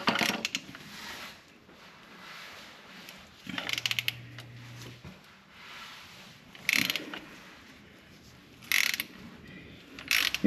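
Ratchet wrench clicking in several short bursts while loosening bolts on the front differential of a Nissan Skyline, close and fairly loud, separated by quieter workshop pauses with a brief low hum.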